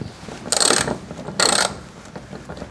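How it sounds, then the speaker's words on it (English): Two quick bursts of clicking from a ratchet fitted with a 10mm socket as it works on screws holding an under-car cover on a Kia Sportage, close and loud with a quiet pause between them. "For all these other screws, you can just use a 10mm socket."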